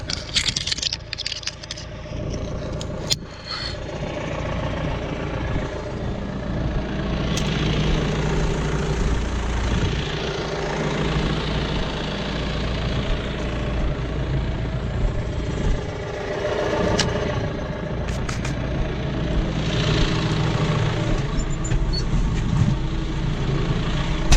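A John Deere tractor idles on a farm during tree-pulling work, giving a steady low rumble throughout with occasional light clicks and rattles nearby.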